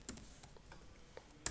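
Sparse clicks of a computer keyboard as a command is typed on a Ubuntu server, faint, close keystrokes at an uneven pace, ending with a sharper key press.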